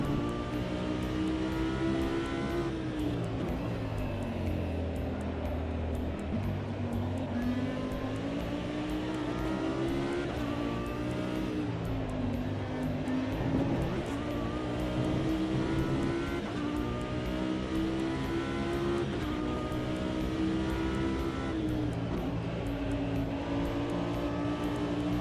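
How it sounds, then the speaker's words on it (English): A race car engine in a sim racing video game drones loudly and continuously, its pitch rising and falling through gear changes and corners, with the odd tire squeal and no voices over it. "Oh, Pills, how you held that four-wheel slide into there."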